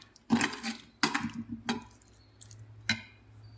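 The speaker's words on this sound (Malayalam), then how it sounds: "ഇത് നല്ല പോലെ നമുക്ക് യോജിപ്പിച്ച് കൊടുക്കാം" Homemade chili powder is stirred into oil in a bowl, making several close, soft, wet squishing strokes with light utensil clinks and pauses between them; no one talks.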